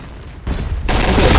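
A grenade goes off in a multiplayer shooter, a loud sudden blast that swells into a rumbling, noisy roar and lingers to the end.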